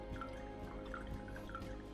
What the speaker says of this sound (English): Juice of half a lemon.